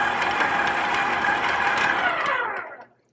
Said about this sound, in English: You'll want to start with your sugar and your butter in your mixer and cream them very well.